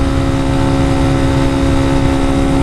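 Motorcycle fitted with an FMF exhaust and 13/42 gearing, engine droning steadily at highway speed, a loud continuous tonal hum with strong low rumble and no break, heard close from the rider's position.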